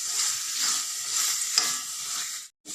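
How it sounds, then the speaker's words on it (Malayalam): Masala with a half spoon of black pepper powder is stirred slowly in a frying pan, giving a steady bright sizzle with soft scraping strokes that stops abruptly near the end. "ഇതൊന്ന് പതുക്കെ ഇളക്കി കൊടുക്കാം"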